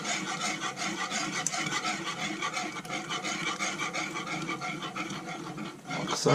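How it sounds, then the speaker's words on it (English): A spoon or whisk stirs a Sri Lankan watalappam dessert mixture gently so it does not froth, making a continuous close swishing and scraping in a bowl that holds steady throughout; a voice speaks briefly. "Again, we're just stirring it, we're not trying to froth it up too much."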